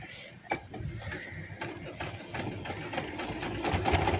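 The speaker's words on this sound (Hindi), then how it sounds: "अब इस तरह से मैं इसको एंड तक सिलाई लगा देती हूँ" A domestic sewing machine stitches a seam on a baby boy's short pants, its rapid mechanical whirring running in short bursts with clicks, close and moderately loud, while someone talks over it.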